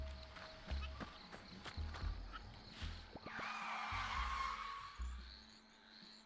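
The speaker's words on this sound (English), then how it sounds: "Tire screech." A tire screech in the video game Bear and Breakfast sweeps in midway through, a drawn-out skidding squeal over a background of game sounds and low thumping beats.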